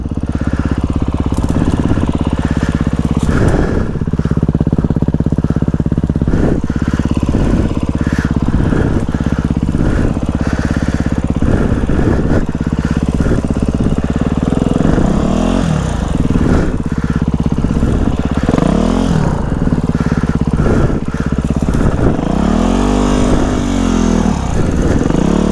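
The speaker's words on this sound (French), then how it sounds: "La moto elle surchauffe un petit peu quand même." A slightly overheating motorcycle engine runs loud and close throughout, holding a rough steady drone broken by repeated revs and dips in pitch.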